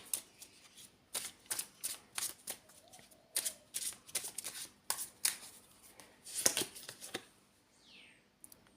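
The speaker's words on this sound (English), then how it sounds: "We'll get out another card here." Tarot cards being shuffled and drawn from a deck: a quick series of crisp, papery riffles and slaps in close succession, fairly near and clear, with a soft slide toward the end and no speech.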